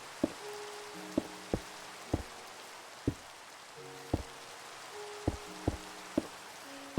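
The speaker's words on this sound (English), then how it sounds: "I love that it's raining." Rain falls steadily in the video game Minecraft as a soft, continuous hiss, with sharp, regular knocking clicks from play over it and no talking.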